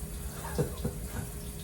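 Water gushes steadily from a toilet bidet spray in a luxury retreat bathroom, a continuous faint hissing stream with no talk.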